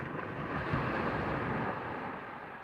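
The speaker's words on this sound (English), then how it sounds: "them waves crashing here, that's nothing" Waves crash and surge along a shoreline during an evening of sea kayak fishing, a steady, full roar of broken surf with wind noise on the microphone and no voices.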